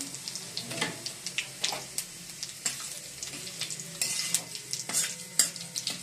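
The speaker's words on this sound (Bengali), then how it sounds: "জিরেটা একটু ভাজা ভাজা হয়ে গেলে" Cumin, bay leaves and dry chilli fry in hot oil with a soft continuous sizzle, broken by sharp, irregular scrapes and clinks as a spoon stirs the pan close by.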